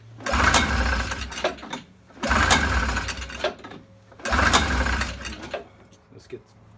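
A 1979 Yamaha Enticer 340 Deluxe snowmobile engine on full choke fires in three rough, sputtering bursts, each lasting about a second and a half with brief pauses between, close and fairly loud.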